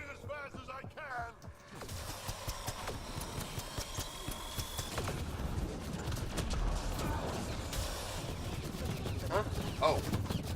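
Gunfire in the video game Mass Effect Andromeda, rapid sharp shots and bursts with mechanical clicks over a busy battle soundscape, with voices talking throughout.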